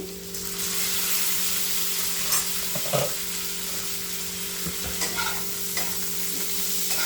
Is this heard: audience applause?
no